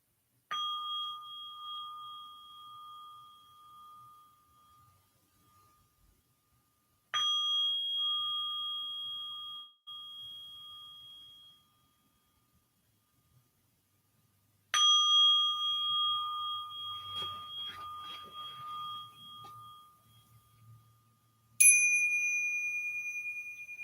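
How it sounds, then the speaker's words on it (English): Three separate strikes of a meditation bell at an evening guided meditation, each clear metallic ding ringing out and slowly fading before a long pause, followed by a fourth, higher ding; no talking. "Listening to 3 sounds of the bell, I return to my true home in the present moment."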